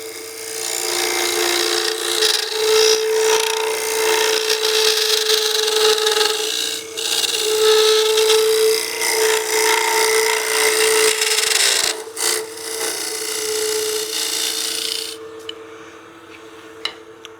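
A wooden pot spins on a lathe while a scraper hogs out material, producing a sustained loud rasping whir with a steady motor hum, interrupted by brief pauses and ending as the cut stops.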